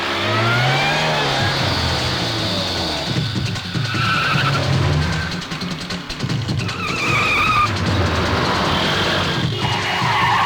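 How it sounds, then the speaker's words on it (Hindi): A car in an action movie scene drives fast and skids, with a continuous loud roar of engine and tire screech lasting the whole stretch, rising and falling in pitch. "अरे जल्दी ले पीछे गाड़ी को। चल जल्दी चल।"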